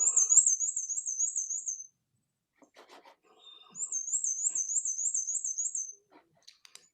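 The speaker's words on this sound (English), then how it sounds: "They have a high-pitched squeaky sound," Bark-foraging bird giving a high-pitched squeaky call: two loud, close bursts of rapid wavering squeaks, each about two seconds, separated by a pause with faint rustles.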